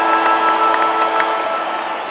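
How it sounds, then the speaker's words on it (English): Large, dense crowd cheering and applauding at the MCG for an AFL match between St Kilda and Essendon, the Saints' 150th anniversary game; a loud, continuous roar with scattered whoops and claps and no talk. "what a crowd already."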